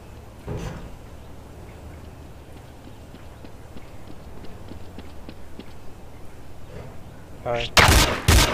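Gunshots in the game Counter-Strike: Source, with scattered faint shots repeating over background game noise, then a loud close burst of firing near the end.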